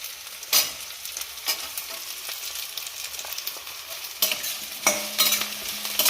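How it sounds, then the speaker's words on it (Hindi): Vegetables sautéing in a pressure cooker while being stirred: a soft continuous sizzle with a handful of sharp scraping strokes spaced apart, close by and without speech. "थोड़ा सा भून लेंगे। इसे थोड़ा सा हम ऐसे चलाएंगे।"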